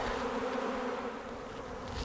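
A honeybee swarm buzzes steadily around a tree during a swarm capture, a dense continuous drone with no break and no talking.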